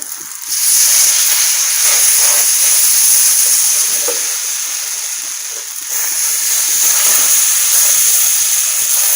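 Egg paratha dough sizzles in ghee in a frying pan, a loud, steady hiss that starts abruptly, dips slightly midway and then holds on.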